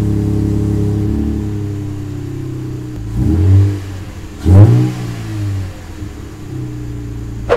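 A Lexus IS car engine with a new RC-F exhaust idles, then revs sharply twice in loud bursts with a throaty exhaust note before settling back to a low rumble.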